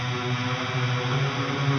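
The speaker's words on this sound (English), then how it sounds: "a crap ton of chorus into a medium gain amp into a crap ton of delay" A dense, sustained guitar tone through a medium-gain amp, washed in shimmering chorus and long reverb, with ping-pong delay echoes bouncing back and forth, steady and fairly loud throughout.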